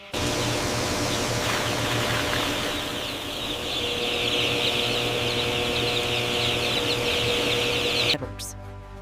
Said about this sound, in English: Placement of newly hatched broiler chicks, specifically white Plymouth Rock chicks, inside large broiler houses at a chicken mega factory.